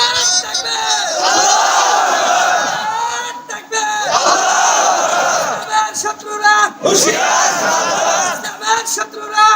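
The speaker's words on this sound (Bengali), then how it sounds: "স্লোগান দেয় একজন" A large crowd at a Bangla-language Islamic waz sermon gathering loudly shouts a slogan in unison, with repeated surging call-and-response bursts that stay close and dense and fill the whole stretch.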